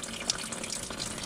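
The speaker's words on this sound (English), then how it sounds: "So all that coolant's dripping out now and going everywhere" Engine coolant drains from a pulled radiator drain plug on an Astra VXR during a hybrid turbo install, making a steady, close splashing trickle of liquid with no one speaking.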